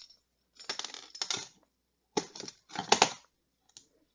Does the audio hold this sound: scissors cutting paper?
yes